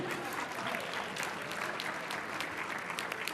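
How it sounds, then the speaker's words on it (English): A room of attendees at a women's bar association installation ceremony gives a steady round of applause, dense overlapping claps sustained at even loudness throughout, with no voices over it. "you can give her a round of applause for that too"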